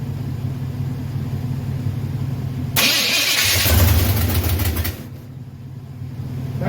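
A 1931 Ford Model A engine cranks and fires, then settles into a rough, rumbling idle for a few seconds before dropping to a quieter running note, loud and close.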